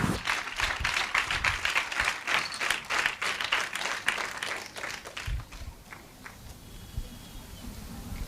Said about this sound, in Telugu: బిగ్గరగా చప్పట్లు కొడుతూ యేసయ్య నామాన్ని మనం మహిమపరుస్తాం